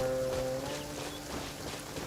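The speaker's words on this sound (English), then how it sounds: "It's raining." Soft steady rain from the video game Genshin Impact patters in the background with a faint low tonal hum fading early on, quiet and continuous.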